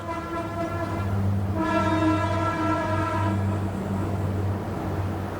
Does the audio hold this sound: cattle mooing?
no